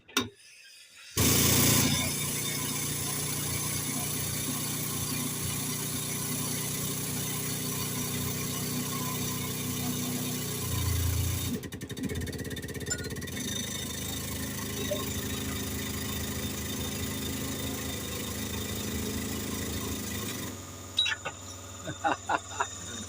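A recently rebuilt motor driving a pneumohydraulic press starts with a jolt and hums steadily for a long stretch, its tone shifting slightly as it works, then stops with a few clunks.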